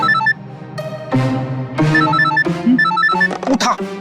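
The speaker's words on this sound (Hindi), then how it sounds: "फोन उठा जल्दी जल्दी जल्दी।" A phone ringtone plays a repeating electronic melody, loud and close, its bright notes cycling over and over without pause.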